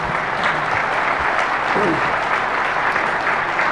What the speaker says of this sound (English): I'd like to get a round of applause for the audience, and from the audience